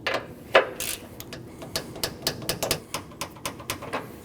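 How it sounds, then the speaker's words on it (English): Close, dry ratchet clicks as bolts on the radiator support of a Nissan NV2500 are tightened, short bursts of rapid ratcheting repeating steadily with small pauses in between. "Now we can tighten down our radiator support bolts and those get torqued down to 18 foot-pounds."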